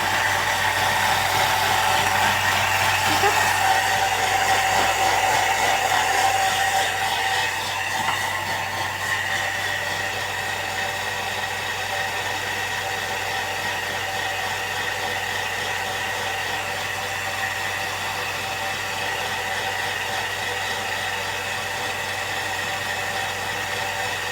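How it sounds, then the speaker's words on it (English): A Thermomix blends a coffee frappe at speed 8, giving a loud, steady whirring roar that holds for the full stretch and eases slightly after the first few seconds. "But let's do this blend. So 30 seconds, speed 8."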